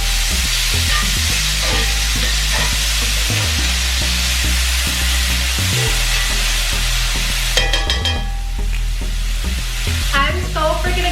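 Birria taco ingredients sizzle steadily in a hot pan while being stirred, with a loud continuous fry and occasional utensil clinks and scrapes near the end.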